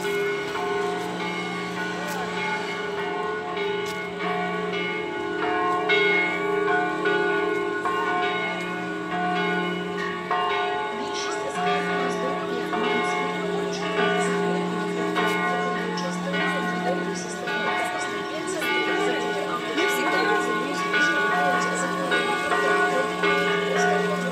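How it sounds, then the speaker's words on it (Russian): A large church bell rings repeatedly with long, resonant overlapping tones, loud and sustained throughout. "там вверху такой колокол, он зазывает, зазывает людей"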